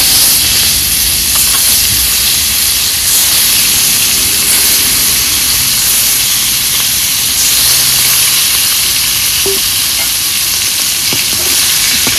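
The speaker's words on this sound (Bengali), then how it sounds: "মাছ ভাজার জন্য কড়াইয়ে তেল দিয়ে দেব" Shol fish fries in hot oil in a wok with a loud, steady sizzle and crackle. The spitting and hissing continue throughout with no voices.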